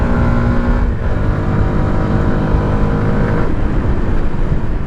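A Yamaha MT-125 motorcycle engine hums while riding, a steady low drone with a slight dip in pitch partway through, loud and continuous with no voices.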